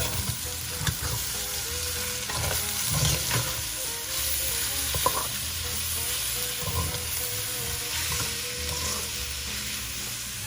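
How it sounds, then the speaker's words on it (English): Oyster mushrooms and vegetables stir frying in a pan give a continuous close sizzle, with occasional scrapes and clatters from stirring and no talk over it. "So we've been stir frying these mushrooms for about like 5 to 7 minutes"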